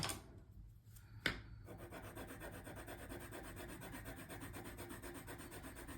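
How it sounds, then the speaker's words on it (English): An embossing tool rubs steadily over coloured pencil on paper, giving a faint, close, continuous scratchy friction after a brief knock near the start, with nobody speaking. "go over with the embossing tool, and then maybe go over with a different colour"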